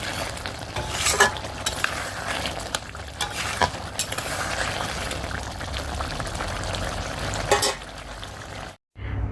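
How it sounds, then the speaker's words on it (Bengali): Spices fried and stirred in a pan with boiled goat meat and chunks of ash gourd: a continuous close sizzle with occasional spatula scrapes and bubbling, ending in a brief cut to silence. "মশলাটা ভালো করে ভেজে কষিয়ে নিলাম"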